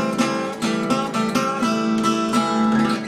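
An acoustic guitar plays a five chord arrangement in Delta blues fashion, with a run of plucked notes and strums in a steady picking rhythm, heard close and alone.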